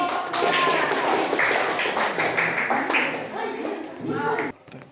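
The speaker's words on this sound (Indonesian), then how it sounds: "Tepuk tangan untuk kelompok" A classroom of students claps for a student group in a burst of dense, close applause with voices mixed in, stopping abruptly near the end.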